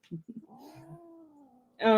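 A house cat lets out a drawn-out, wavering meow after a few short chirpy sounds, fairly close and quiet, with a louder burst of noise cutting in right at the end.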